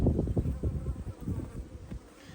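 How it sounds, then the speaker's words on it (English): Honey bees buzz close around a queen bee in a hive, a dense fluttering hum with uneven pulses. "You can see the bees immediately there looking after her still"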